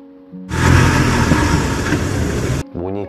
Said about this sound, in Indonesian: Bunyi kereta.